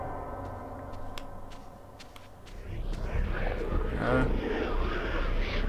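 Wind howls in the Eternal Darkness: Sanity's Requiem video game, a hollow whooshing drone that starts moderate with faint ticking sounds, then swells louder and rougher after a few seconds and keeps blowing steadily.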